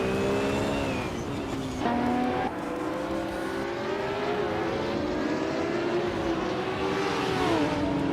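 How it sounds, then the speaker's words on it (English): A 1988 Mitsubishi Starion race car in a racing video game gives a continuous loud engine whine, revving and shifting through gears, with pitch climbing and dropping in steps. "Rosa Gold Gaming is racing a 1988 Mitsubishi Starion"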